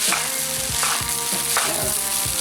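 Spring onions and rice fry in a hot pan with a steady sizzle, punctuated by several scraping stirs at a regular rhythm, close and moderately loud with no talk.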